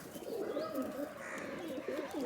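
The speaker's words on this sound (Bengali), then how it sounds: "দেখুন ভাইয়ের কালেকশন করা কবুতর।" A Rajshahi Giribaz pigeon coos in repeated soft, rolling calls, close and fairly quiet, with faint background noise.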